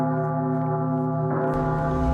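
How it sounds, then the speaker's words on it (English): A bell is rung on a TV news show, giving a sustained, ringing tone with strong overtones, followed by a second, brighter strike over a low studio hum. "Henry, ring the hypocrisy bell, please."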